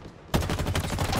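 Rapid automatic weapon fire in Halo Infinite multiplayer, a dense burst that starts abruptly after a quiet moment and continues loud and close to the end.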